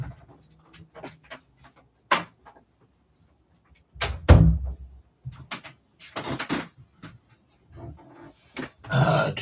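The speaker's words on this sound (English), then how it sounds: "let me go shut my door." A home door being shut, with a sharp thump near the middle followed by scattered bumps and handling noises in a quiet room.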